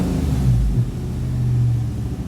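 A big-cam diesel engine idles in park after a start tuned with HP Tuners, giving a steady low rumble with a slight dip and recovery, close and continuous with no talk.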